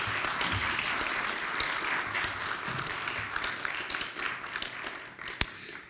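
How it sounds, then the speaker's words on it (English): A crowd applauds steadily for several seconds, with a broad wash of clapping that thins toward the end, one sharp clap standing out. "Let's give him a round of applause."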